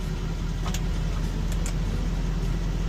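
Car engine running at a steady idle, a low continuous rumble heard from close by with faint brief clicks over it; no talking.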